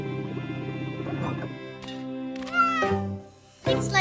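A small cat meows several times in short, rising cries, close and fairly loud, with brief pauses between calls.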